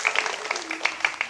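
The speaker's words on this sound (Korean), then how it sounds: "박수 한번 쳐주세요" A hall audience at an open lecture claps for a tea-serving guest, a brief, moderately loud patter of hands with a few sharper individual claps under a faint voice.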